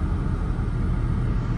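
A 2011 Honda Civic idles with its air conditioning switched on full, giving a continuous low rumble and a steady blowing hum, even and close with no voices over it.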